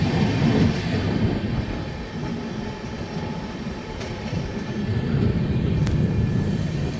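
Inside the Mahakaushal Express, a steady low rumble and rattle of rolling carriages fills the air as an up and a down train meet at a station, with faint metallic clanks now and then.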